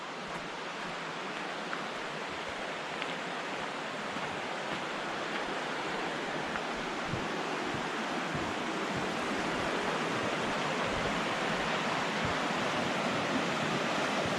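Big Creek in Olympic National Forest rushes beneath a trail bridge, a steady, loud broadband wash of flowing water filling the whole stretch with no voices over it.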